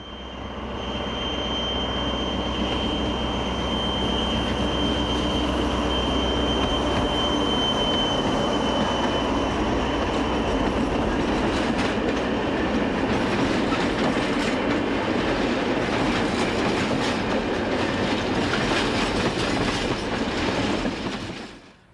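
A locomotive numbered 2725 hauls a rake of new M6 double-deck coaches on a European railway, a loud, steady rumble of wheels on rails with faint rhythmic clicking and a high squealing tone running through the whole passage.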